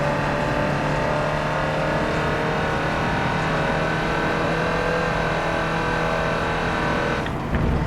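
A car accelerates hard on the Nürburgring Nordschleife, its engine roaring at a loud, steady pitch throughout with no break, then easing briefly near the end.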